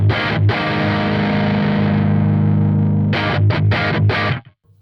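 Distorted electric guitar through a Victory Sheriff tube amp rings out as one sustained, saturated chord of power-tube breakup, then a few short choppy chords and a sudden cutoff.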